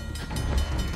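Brief, steady rumble of a moving train in Uncharted: The Lost Legacy, a dense, close rolling noise that lasts about a second.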